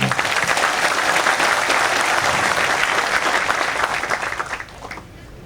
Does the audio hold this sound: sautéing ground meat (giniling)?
no